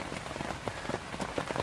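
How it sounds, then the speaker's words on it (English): Heavy rain pours onto a Dutch army canvas tent at a wild camping spot, a dense, steady drumming patter, close and loud all around, with no voices. "It's absolutely pouring it down."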